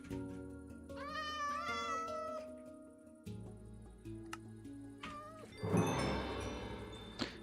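A cat meows a few times in the video game CC:Endventure, wavering calls set among layered game music, ticking effects and a louder burst of sound toward the end.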